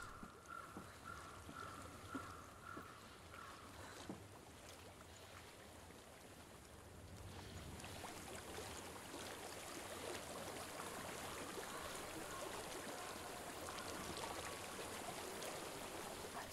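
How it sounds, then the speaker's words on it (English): Flowing stream in Hellblade: Senua's Sacrifice, a soft continuous rush of water that swells louder and brighter partway through, with faint ambient tones beneath and no speech. "I hear water."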